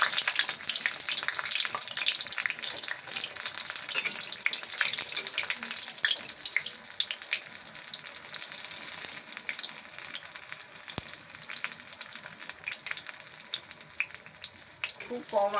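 Water lily stalk fritters frying in oil, a busy crackling sizzle throughout with dense popping bubbles and a few stirring knocks, fairly close and steady.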